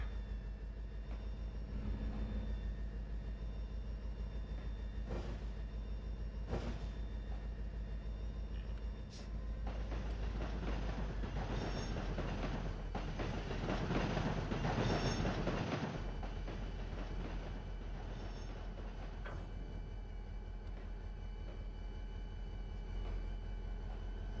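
Train shunting in the video game Trainz 22, a low continuous locomotive rumble with scattered clanks and a swelling burst of rolling rail noise midway, moderately quiet.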